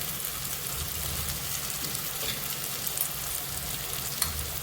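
A thick red chilli and garlic paste sizzles and crackles steadily in a hot pan while a spoon stirs and scrapes through it, with occasional louder pops.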